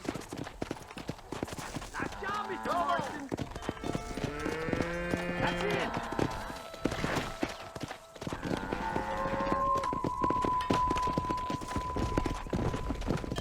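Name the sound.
cattle and horse hooves in Red Dead Redemption video game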